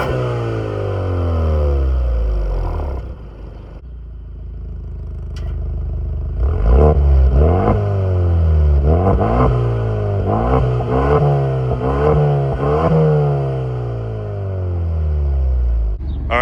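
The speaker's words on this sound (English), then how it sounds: "Now obviously it's an EcoBoost, it's a 4-cylinder turbo." A 2026 Ford Mustang EcoBoost with a four-cylinder turbo engine idles loudly up close, then is revved repeatedly in sharp rising and falling bursts, without talking.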